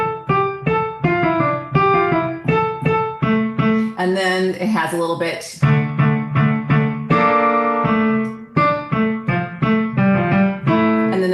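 An elementary-level Halloween piano piece plays in a bouncy, detached rhythm with a brief run of swirling notes in the middle, while a voice talks briefly over it.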